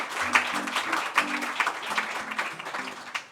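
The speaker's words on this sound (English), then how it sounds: "But how about a round of applause for Chris for just being like such a graciou" Light audience applause after a live music set, a small room's worth of claps that are soft and scattered rather than dense, with brief musical or tonal sounds underneath.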